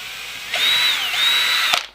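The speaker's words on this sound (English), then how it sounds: "Just run the drill in reverse, because it's just enough to sort of clearance out that that hole" A power drill spinning in reverse to clear out a screw hole while building a gel blaster battle mech, a short whining buzz with a pitch sag mid-run and a sharp click as it stops.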